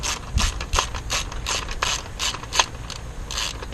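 A ratchet tightens a bolt on the ignition coil of a 2002 BMW 325i, giving a series of short, close clicking bursts in an uneven rhythm with no voices.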